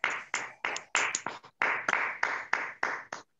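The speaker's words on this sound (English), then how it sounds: "Let us unmute and give ourselves a Toastmaster Nikhil good round of applause." Clapping by a few people in an online Toastmasters meeting, a thin, uneven patter of individual claps in quick bursts, fairly quiet and close to the microphone.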